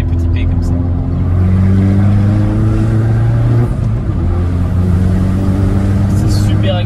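A Hyundai i30N with a 275 hp engine drones loudly and steadily from inside the cabin, a deep, even tone that swells gently under light throttle.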